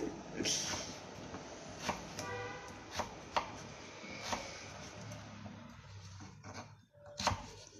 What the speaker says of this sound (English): Chopping up my beet. This is a big beet.